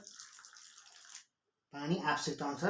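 Water is poured into millet (kodo) flour mixed with egg, sugar and salt for a millet pizza batter, giving a steady splashing hiss for about a second. Silence follows, then a voice speaks.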